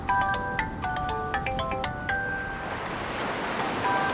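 A mobile phone ringtone plays a bright repeating melodic pattern over a steady rush of wind and surf-like noise, then fades out, leaving only the windy background.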